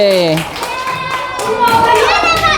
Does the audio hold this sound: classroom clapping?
yes